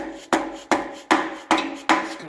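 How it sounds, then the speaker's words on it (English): Dead blow hammer driving a large socket against the back of a 300 ci 4.9L inline-six engine head: five heavy, dull thuds in a steady rhythm, close and loud, each with a short fading ring. "The largest socket I own. A dead blow hammer."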